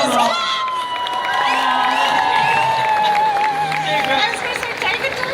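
Convention audience at a Comic Con Brussels Q&A panel cheering and whooping loudly, with clapping blended into a continuous crowd roar and high excited shouts throughout.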